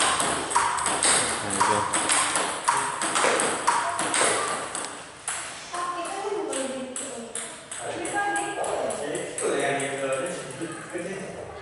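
Table tennis ball struck with repeated backhand strokes during practice rallies, a steady run of sharp pings bouncing back and forth, close by, with a commentator's voice talking over much of it.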